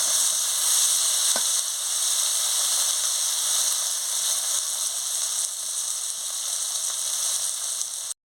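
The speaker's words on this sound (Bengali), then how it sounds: "আমি ভালো করে মাছটাকে ভেজে নিচ্ছি" Small puti fish fry in hot oil in a pan, giving a steady, bright sizzle that carries on without a break, with one faint tap partway through and no talking.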